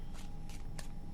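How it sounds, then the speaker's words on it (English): Tarot cards riffle-shuffled in three quick, crisp bursts, close and fairly quiet, with no talking. "Two shuffles."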